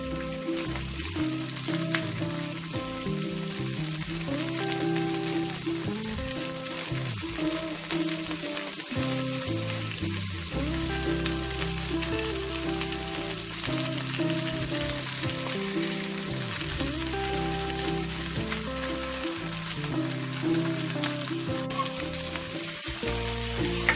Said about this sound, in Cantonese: 咁煎到佢唔使煎太耐，因為我哋唔使個蝦熟嘅。